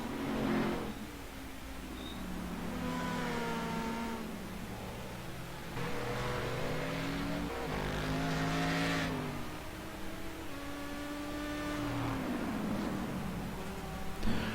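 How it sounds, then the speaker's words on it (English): Race cars drive into a turn, engines rising and falling in pitch as they brake and accelerate, with several cars passing in succession at moderate distance and no talk over them. "One thing I've noticed about Bill, he brakes really late on the first turn"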